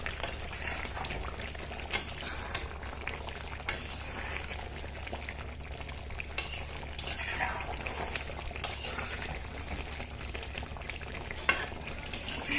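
Prawns sizzle and spit in hot oil in a pan while being cooked alongside young jackfruit, a steady, dense frying crackle with occasional sharper pops and stirring scrapes, close and continuous with no talking.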